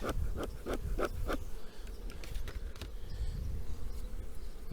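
Honey bees buzz around an open beehive in a dense, continuous drone, with a few sharp knocks and clicks early on and close individual bees passing.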